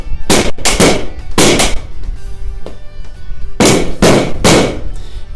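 A heavy spatula pounds sheet metal to bend it. Loud sharp metallic bangs come in two quick clusters, a few strikes each, close and ringing.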